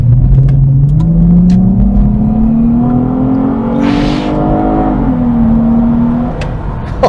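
A Nissan Stagea family wagon with a 280 bhp engine revs hard and accelerates on the road, its loud, close exhaust note climbing steadily in pitch, dipping briefly at a gear change, then pulling up again.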